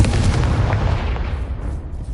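A Confringo blasting spell explodes in Hogwarts Legacy, a loud booming burst at the start that rumbles and fades away over about two seconds.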